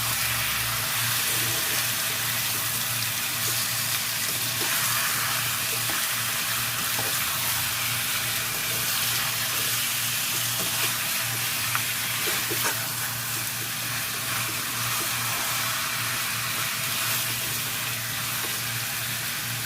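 Chicken pieces frying in a pan for creamy chicken curry, a steady broadband sizzle with occasional stirring scrapes, fairly loud and continuous with a constant low hum beneath.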